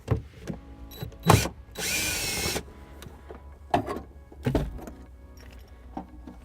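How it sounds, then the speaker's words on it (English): A power drill whirs in one short burst removing a screw on a 2010 Subaru Forester, surrounded by scattered clicks, taps and handling knocks close by. "I'll get my drill to remove this screw here"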